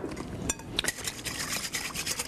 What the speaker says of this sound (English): Then you whisk in some sour cream, and let me get the whisk going here.